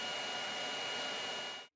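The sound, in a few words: three cooling fans spinning on idle BIQU BX 3D printer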